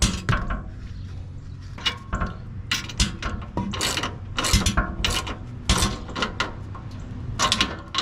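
Bolts are threaded by hand into a skid plate on a 2020 Toyota 4Runner TRD Pro, giving a run of close, sharp metallic clicks and ratcheting taps at irregular intervals.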